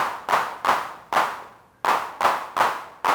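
Eight crisp synthetic hand claps from a Roland TR-1000 drum machine, sounding alone in a steady, slightly uneven pattern, each a sharp snap with a short decaying tail.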